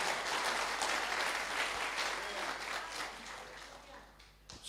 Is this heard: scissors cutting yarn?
no